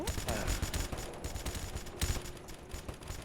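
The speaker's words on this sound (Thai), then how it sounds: "ปืนนี้มันมี 15 นัดว่ะเจ๋ง" Rapid gunfire from a 15-round gun in the Roblox game Survival Stories, a string of quick, close shots with short gaps in between, under some faint talk.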